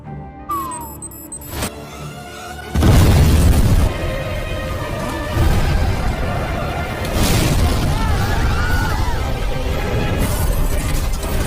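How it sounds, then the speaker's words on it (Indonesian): A car bursts into a sudden loud explosion in front of a bank in a movie scene, a heavy boom followed by rumbling debris and roaring fire, after a brief quieter electronic passage. "pada saat itu juga sebuah mobil di depan bank meledak"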